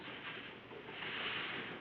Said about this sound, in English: Ocean waves done with a sack of peas on a window screen.